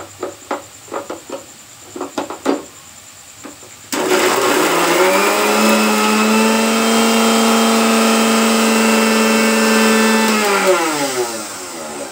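A few knocks and clatters give way to an electric blender grinding spices and garlic into paste, a loud sustained whirring drone with a rising pitch as it spins up, running for about eight seconds before winding down.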